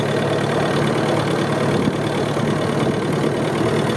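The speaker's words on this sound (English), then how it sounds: "you can hear how it lugs the engine down trying to differential brake at slow speed" A Cub aircraft engine lugging down at slow speed while taxiing on differential brakes, a heavy, rough, continuous low drone with a slight uneven knock, loud and close throughout.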